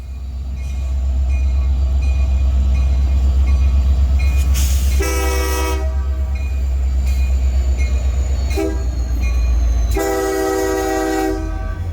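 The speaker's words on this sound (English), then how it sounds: "I got 3 locomotives building a train using the Lincoln sub." Three loud idling Union Pacific freight locomotives rumble steadily while building a train, the horn sounding twice in long blasts, with a rail clank between them.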